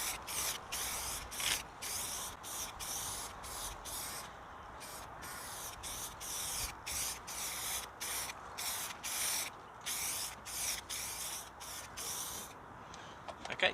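Spray can laying a second, thicker coat of primer on a BMW 5 Series E60 boot lid during rust repair, close rhythmic hissing bursts of about a second each separated by short gaps, with no talking.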